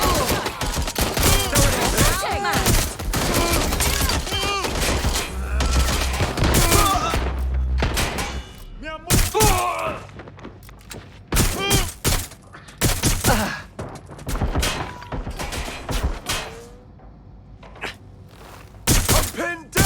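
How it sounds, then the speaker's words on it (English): Rapid bursts of automatic gunfire and heavy impacts crackle through a shootout in Watch Dogs Legion, loud and close, with shouted voices cutting in between volleys. "I'm pinned down! I'm taking fire!"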